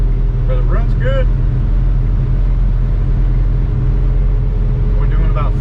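A 1961 Ford Falcon engine holds a steady half-throttle drone while driving, a continuous low rumble with road noise throughout and brief bits of voice near the start and end.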